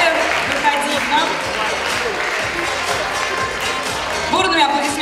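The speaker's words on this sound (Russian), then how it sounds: "Бурными аплодисментами." Audience at a student spring show clapping steadily for a prize winner, a sustained dense patter of applause filling the hall while a presenter talks over it.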